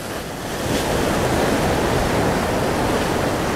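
Ocean waves wash onto a beach in a loud, steady roar of surf, with a little wind noise and no voices.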